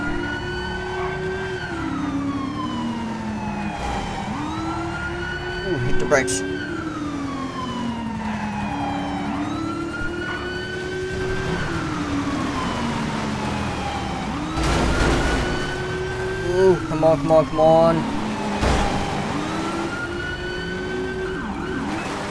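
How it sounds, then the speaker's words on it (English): Police car siren in the LSPDFR game from a 2009 Dodge Charger, wailing and yelping in repeated rising and falling sweeps, close and loud over engine noise, with someone briefly talking. "we don't need the siren on for now"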